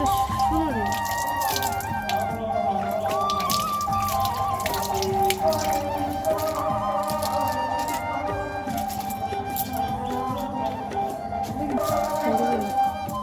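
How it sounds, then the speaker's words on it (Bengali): A muddy item is washed under running water in a village household, with steady splashing and trickling from a tap and drips throughout, while someone talks over the sound. "তো এটাকে একটু ধুয়ে নিই, মাটি দিয়ে না একদম কাদা কাদা হয়ে গেছে"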